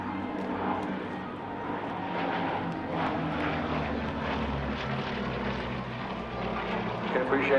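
A Bristol Blenheim bomber makes a low underside pass at an airshow, its piston engines giving a steady, fairly loud propeller drone that holds throughout, with a voice commenting over it.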